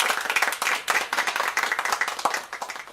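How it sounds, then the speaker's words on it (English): An audience claps for Madame Rebecca, a children's Bible teacher, with dense, steady, close handclaps running evenly for the whole stretch. "Let's clap for their teacher, Madame Rebecca"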